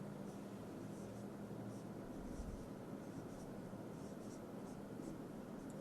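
Faint scratching of a pen or marker writing out a matrix condition, soft and continuous beneath a steady background hiss.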